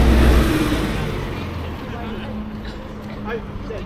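Car traffic near the official start of the Nakasendo Trail in a busy tourist area, a vehicle rumbling close at first and fading, with steady street noise and people talking around it.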